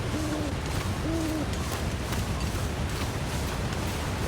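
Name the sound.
owl hooting, from the video game The Long Dark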